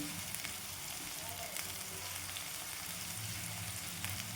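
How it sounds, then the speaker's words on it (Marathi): Onion fries in a pan for a dry monsoon kantola vegetable dish, giving a dense steady hiss that is faint, with a few soft crackles and a low hum underneath, and no talk. "कांदा छान आपला भाजला गेलेला आहे"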